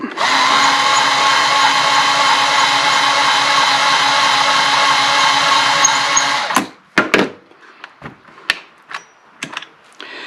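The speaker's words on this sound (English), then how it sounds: "I also frequently get questions whenever I'm doing some trimming about the Ryobi driver here" A Ryobi power driver spinning while trimming brass cases, a loud, steady high-pitched motor whine for about six seconds, then stopping abruptly, followed by scattered clicks and metallic handling noises.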